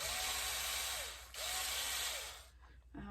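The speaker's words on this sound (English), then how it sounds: "we need a screwdriver to get this little screw out" A small powered screwdriver whirs in two bursts, its motor pitch sweeping up and down, while removing a tiny screw from a battery compartment, then it stops.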